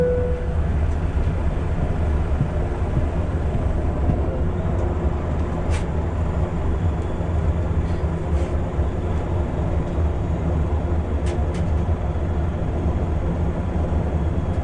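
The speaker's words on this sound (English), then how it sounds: "Here's us starting up, taxiing, and taking off from runway 35 left." Steady, loud engine and cabin roar of a Dornier 328 turboprop airliner starting up, taxiing and taking off from runway 35 left on a Central Mountain Air flight from Calgary, heard continuously from inside the cabin.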